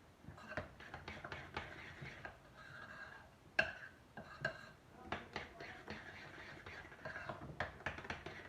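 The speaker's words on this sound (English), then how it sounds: "Now that takes a little bit more mixing than everything else does." A spoon scrapes and knocks around a bowl while bread pudding mixture is mixed, a quiet, irregular run of clinks and taps recorded close.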